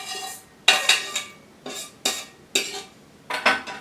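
Vegetables are scraped and tipped into a hot Instant Pot liner after pressure cooking, giving a run of sharp metallic scrapes and clatters in uneven bursts, close and fairly loud, with no voices.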